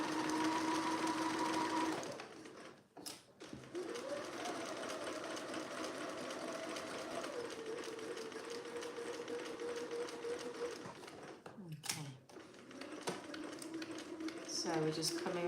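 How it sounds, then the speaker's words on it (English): A domestic sewing machine stitching a curved seam on a vintage-style shirt dress, a steady close whirring drone that stops briefly twice and then resumes. "So we're just coming around the corner slowly."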